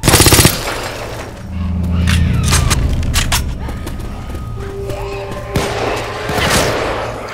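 Video game firefight with AK and M17 rifles, a loud opening burst of shots followed by scattered distant gunfire and booms mixed with other game noise and brief voices.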